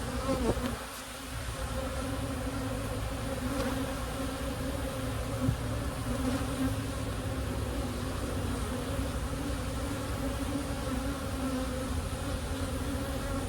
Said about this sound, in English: Lots of fuzzy baby bees, though.